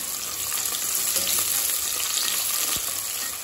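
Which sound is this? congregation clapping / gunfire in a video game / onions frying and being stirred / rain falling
onions frying and being stirred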